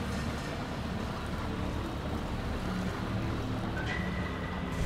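Steady motorboat engine drone in Far Cry, a continuous close rumble with splashing water and a faint tone entering near the end, no talking.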